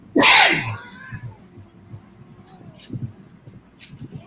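A single loud, close sneeze bursts out at the start, followed by quiet room noise and faint movement.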